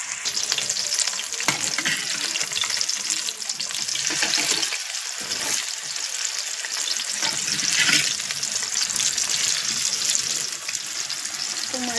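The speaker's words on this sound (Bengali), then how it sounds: "মাখিয়ে নেবার পর তেলে একদম কড়া করে ভেজে নেব।" Fish pieces rubbed with salt and turmeric sizzle loudly in hot oil, a dense continuous crackle close up, with brief stirring and scraping noises and a short lull partway through; no one speaks.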